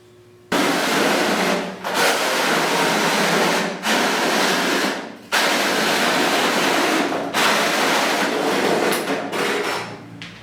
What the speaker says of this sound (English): Okay, so I need to drill 3 holes in the side.